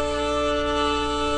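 A double stop on a stringed instrument fretted with too little index-finger pressure, producing a short, sustained, buzzy and thin-sounding pair of notes, close and steady with no talking.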